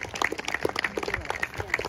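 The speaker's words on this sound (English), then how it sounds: "Yes, you may give her a round of applause." Outdoor crowd at a Normandy memorial unveiling in Rettendon giving a round of applause, scattered light clapping heard fairly faint and distant with voices mixed in.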